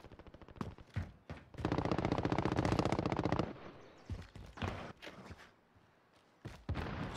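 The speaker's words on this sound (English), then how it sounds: "That guy's shooting at you." Automatic gunfire in the Call of Duty video game, with loud rapid bursts of shots from a machine gun and scattered single shots and thuds, close and dense through most of the stretch.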